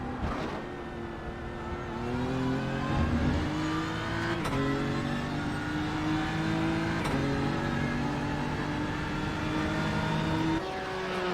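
Onboard a GT3 race car at Le Mans, the engine drones steadily at high revs, loud and close, with a few brief breaks in pitch as gears change and no voices over it.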